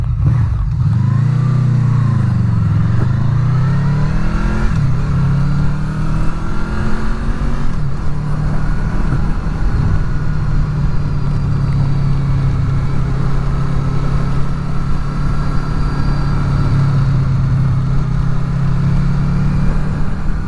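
A Honda VFR800 motorcycle engine revs and pulls along a fell road in the English Lake District, close and loud from the riding position, its pitch rising and falling through gear changes before settling into a steady drone.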